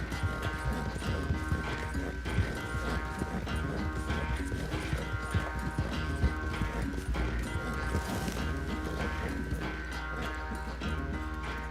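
Horse hooves galloping in Red Dead Redemption 2, a steady rapid clatter running the whole time beneath a dense game score of music and effects.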